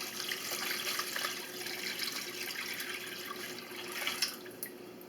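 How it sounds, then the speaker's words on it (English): Brine with rosemary and garlic is poured over lamb in a glass bowl, making a soft continuous trickling and splashing close by, quiet and steady, with no talking. "now we dump our brine on top"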